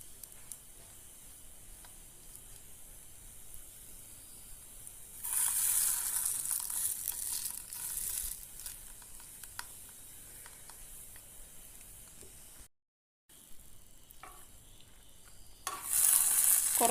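Dosa batter sizzles on a hot pan, a quiet low hiss that swells into louder spitting bursts midway and again at the end, broken by one short gap of silence.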